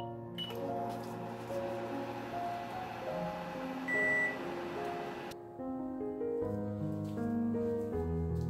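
Microwave oven humming steadily while cooking small washed potatoes, with a single short beep near the middle before the hum cuts off, with soft background music throughout.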